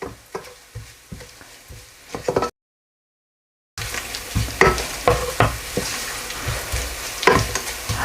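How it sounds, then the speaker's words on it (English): Cumin seeds and whole spices fry with onions in oil, a close steady sizzle with frequent spoon scrapes and knocks against the pan, interrupted by a short gap of silence. "to these onions, I'm going to add in the cumin seeds and the whole spices and just fry them for about 30 seconds"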